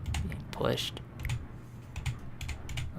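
Computer keyboard typing during Halo 2 Project Cartographer PC gameplay, with a run of quick, irregular key clicks at close range over steady game background noise.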